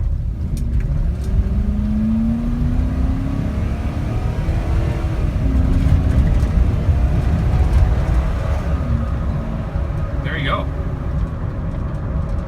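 A Ford truck engine runs steadily at a low idle-like rumble through a short test run, with a brief rev near the end and someone talking over it.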